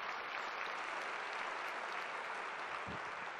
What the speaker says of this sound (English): and you gave him a round of applause